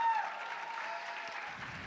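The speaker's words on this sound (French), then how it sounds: "Merci, on peut encore l'applaudir bien fort." Audience applause for a cosplayer at a solo cosplay contest at Japan Impact 2025, a dense steady clapping from a crowd that carries on evenly throughout without a break.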